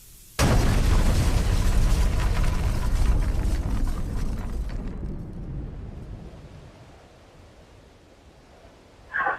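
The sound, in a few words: propane tank explosion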